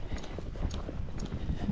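Rocky Mountain horse hooves clip-clop in a quick, even gaiting rhythm, a run of soft repeated hoofbeats heard at moderate distance against outdoor background noise.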